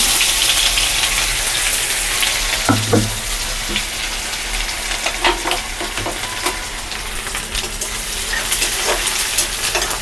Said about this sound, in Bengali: কড়াই গরম হয়ে গেছে, এখন আমি দিয়ে দেব আদা